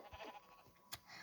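A faint, short sheep bleat from a video game, with a quick click, heard over a steady low background hum.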